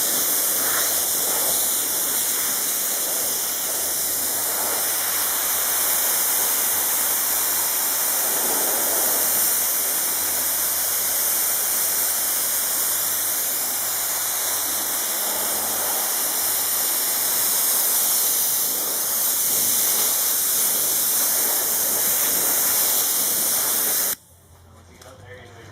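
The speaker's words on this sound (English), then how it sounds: "with this gun, it sprays a water-based adhesive" A spray gun spraying water-based adhesive onto foam gives a loud, continuous hiss that holds steady for about twenty-four seconds before cutting off abruptly, leaving only faint room noise.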